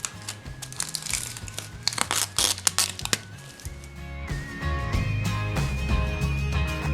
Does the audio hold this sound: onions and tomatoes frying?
no